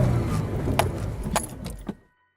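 A Jeep's engine revs with a low, steady rumble as it climbs a trail obstacle off-road. The sound holds close and fairly loud, with a few brief clanks, then cuts off abruptly after about two seconds.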